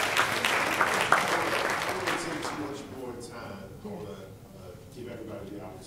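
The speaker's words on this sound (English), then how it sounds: "round of applause" A conference audience applauds a financial services panel, the clapping loud and dense at first, then thinning and fading toward the end.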